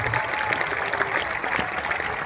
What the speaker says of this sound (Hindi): एक बार ताली जोरदार बजा करके धन्यवाद है